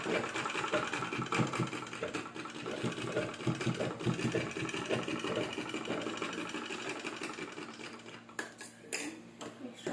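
Electric sewing machine stitching fabric for a frock bodice, running steadily with a continuous mechanical whir and rapid needle clatter throughout, fairly close, with a few brief clicks near the end.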